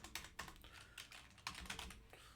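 Quiet typing on a computer keyboard while entering a world frame into a Simulink multibody library, irregular bursts of key clicks close by with no talk.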